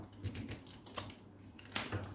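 A tarot deck shuffled in two halves, giving soft, quick papery riffles and taps in short irregular bursts, faint and close, with a sharper flutter near the end.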